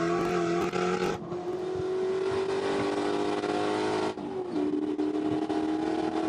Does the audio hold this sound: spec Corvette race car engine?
yes